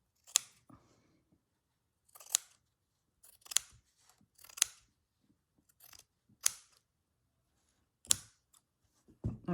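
Scissors trim the edges of a printed fabric panel, with sharp, isolated snips spaced a second or two apart in an otherwise quiet room.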